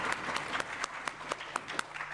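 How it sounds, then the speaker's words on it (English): Scattered applause for judges at a university innovation festival, a handful of distinct claps at a steady, fairly quick rhythm, faint and sparse rather than a full crowd. "A round of applause for our judges"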